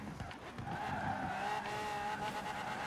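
A Mosler car driven fast in Forza Horizon 4, its engine droning steadily with rising and falling pitch and faint tire squeal, heard fairly quietly throughout.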